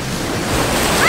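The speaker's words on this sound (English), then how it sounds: "It is super, super windy today. The waves are super, super huge back here." Large ocean waves crash and roll at a beach while strong wind buffets the microphone, a continuous loud roar of surf and gusts filling the whole moment with no speech.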